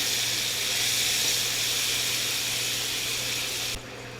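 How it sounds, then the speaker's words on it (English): Thinly sliced onions sauté in a hot pan, a steady loud hissing sizzle that holds evenly for several seconds before dropping off abruptly near the end, no voices. "We're going to add our thinly sliced onions. We're just going to let those saute for a bit."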